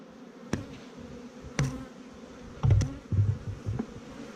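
A low, steady hum of honeybees buzzing close by in an open hive, punctuated by a few sharp knocks and clicks of wooden hive frames being handled.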